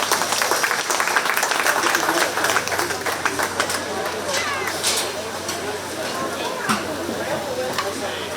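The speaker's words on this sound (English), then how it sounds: "Let's give them a nice round of applause." Applause and scattered clapping from a county fair crowd honoring 4-H swine showmanship champions, a dense steady patter through the first seconds that gradually thins, with voices and crowd chatter mixed in.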